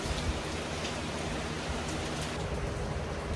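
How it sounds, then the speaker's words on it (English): Steady rain falls outdoors, a dense, even hiss of drops on surfaces that holds constant throughout, with no voices. "I spent most of my time today waiting on the daggum rain to pass so I didn't get completely soaked."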